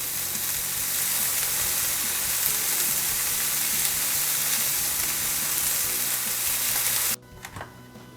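Chopped vegetables and kielbasa sausage sauté in a hot pan with a dense, steady sizzle that runs unbroken for about seven seconds, then cuts off abruptly, leaving faint clatter.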